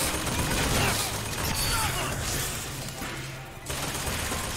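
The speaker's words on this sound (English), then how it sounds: "I'm surprised how fast you can shoot with a pistol." Rapid pistol gunfire in Bioshock Infinite forms a loud, dense, continuous barrage of shots blending into a roar, easing briefly near the end before resuming.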